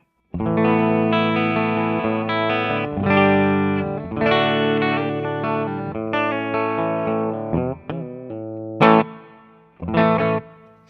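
A Gibson Les Paul electric guitar on a clean tone plays a series of ringing chords and single notes, loud and alone, ending with a few short sharp stabs.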